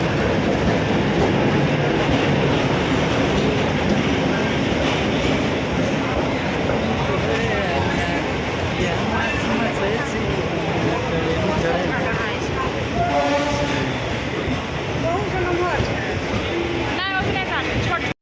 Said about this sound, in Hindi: स्टेशन एला के बाद स्लो भए जाइ छै, सिलीगुड़ी से एलै ट्रेन।